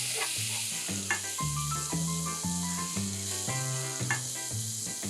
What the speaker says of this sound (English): Let's saute the spices for a minute.